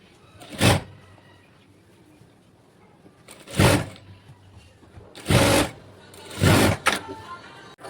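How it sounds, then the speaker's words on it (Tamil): Sewing machine stitching a frock made from a silk saree, running in four short loud bursts separated by pauses, with no one talking. "இது அப்படியே திருப்பி மேலே ஒரு தையல் கொடுத்துக்கலாம்"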